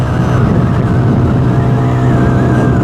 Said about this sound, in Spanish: A eso de las 7000 revoluciones en adelante ya empieza a empujar más.